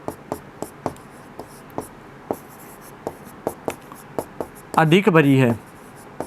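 Pen or marker writing during a class 6 maths lesson on fractions, a brisk series of sharp, close tapping strokes at a steady pace, followed by a brief spoken phrase.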